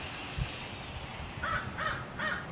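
Three raspy crow caws in a row, evenly spaced over a second or so, heard over a steady outdoor rumble and hiss, moderately distant.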